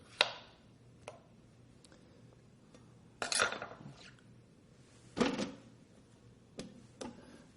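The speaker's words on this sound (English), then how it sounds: "I'm just going to cut it up a little bit to fit in the food processor" A knife cutting up a medium zucchini on a cutting board, a few sharp, separate chops and thuds spaced irregularly and heard up close against a quiet background.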